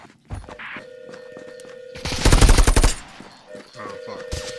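Video game gunfire: a loud burst of rapid automatic shots near the middle, amid quieter game sounds, footsteps and scattered single shots, with players talking over voice chat.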